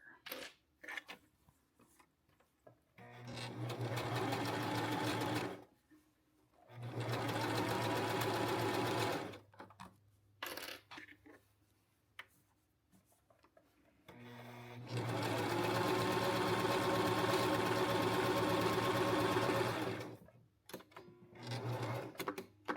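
A sewing machine runs a basting stitch in several bursts of rapid, close stitching, the longest lasting about five seconds, separated by short pauses with faint handling sounds.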